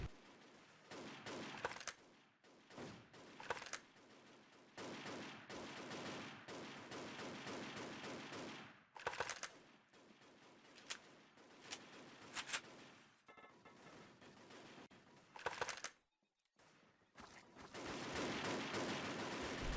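Rapid bursts of gunfire crackle through a firefight in a competitive video game tournament final match, dense volleys broken by a few brief lulls, loud and with no talking.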